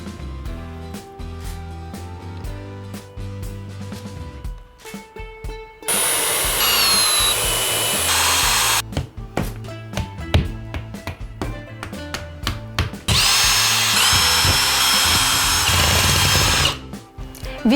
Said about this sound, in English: Next, drill the vent casing onto the inner wall.